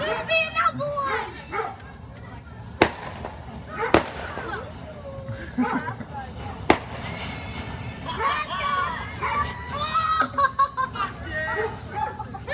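Sharp New Year firework bangs pop a few times amid a dog's excited barking and yips, with people talking throughout.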